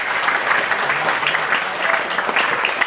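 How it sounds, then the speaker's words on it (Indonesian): Crowd at a Maulid Nabi gathering in an Islamic boarding school breaks into a thick, continuous round of applause, loud and steady throughout without clear pauses. "Tepuk tangan untuk para santri."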